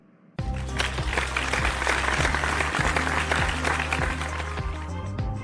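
An audience bursts into loud applause that starts abruptly and holds steady as a dense wash of clapping, with a few individual claps popping out.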